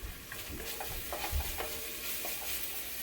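Onions cook in a pot for stewed barley and portobello mushrooms, giving a gentle continuous sizzle and hiss with occasional soft stirring scrapes, close and moderate in level.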